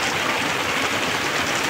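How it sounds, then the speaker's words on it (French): Rain falls on a boat during a windy storm, a dense, steady hiss of drops on the surfaces, close and continuous with no talking. "La pluie."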